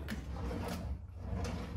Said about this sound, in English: That's a drawer